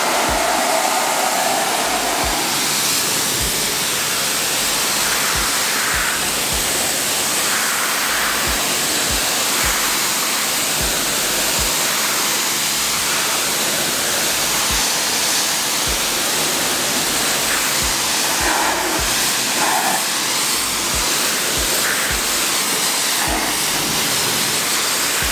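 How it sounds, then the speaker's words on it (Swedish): Pressure-washer water spray rinsing a car's wheels and rims, a loud continuous hissing rush that runs for about 25 seconds with no voices. "Men nu måste vi spola av här."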